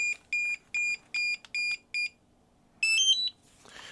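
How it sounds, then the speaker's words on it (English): A DJI Neo drone remote controller gives six short, evenly spaced electronic beeps, then a brief rising chirp of tones and a soft rustle. "of course it's beeping because we need to turn on our goggles."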